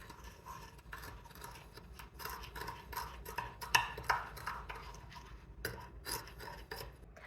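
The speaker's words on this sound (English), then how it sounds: "We'll add some sugar as well. Probably good. Let's mix this." Sugar is stirred into fall cookie dough in a bowl, giving faint, close, rhythmic scraping and rubbing strokes with an occasional light clink, no talking.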